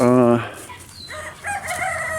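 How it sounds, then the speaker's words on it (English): A rooster crows once loudly at the start, followed by softer clucking and fowl sounds nearby. "There's the new rooster."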